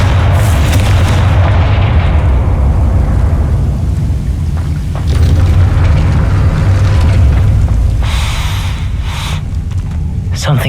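A Confringo fire spell blasts in Hogwarts Legacy, heard as loud, continuous booming explosive rumble with heavy low end, with dense crackling debris throughout and a few sharper bursts near the end.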